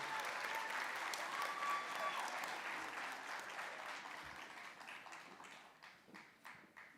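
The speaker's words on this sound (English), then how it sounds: "Round of applause for this group as they get the nursing pin." Audience clapping at a nursing school pinning ceremony during graduation, sustained crowd applause that fades gradually into scattered claps near the end.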